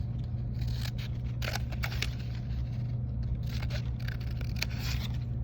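Scissors snip through paper while cutting a fringe, a run of quick close crisp cuts over a steady low hum.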